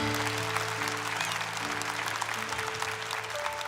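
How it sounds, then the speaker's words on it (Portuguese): A church congregation applauds during Mass, a soft, even patter of many hands clapping, with a sustained organ or keyboard chord ringing beneath it throughout. "Dá uma salva de palmas bem forte a Jesus."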